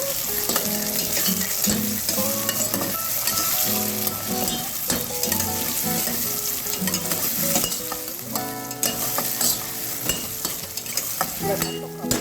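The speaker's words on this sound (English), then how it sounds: "you can go ahead and add those lovely red cherry tomatoes" Red cherry tomatoes going into a pan of translucent onions for Trini bhaji, with a loud, continuous close sizzle and frying crackle, brief stirring knocks, and soft background music throughout.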